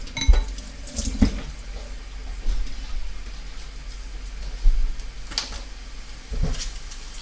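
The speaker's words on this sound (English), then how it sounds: "I'm just going to give it a quick rinse." Organic cauliflower is rinsed under a running kitchen tap, a steady hiss of flowing water with a few soft splashes and knocks as the head is turned, no voices.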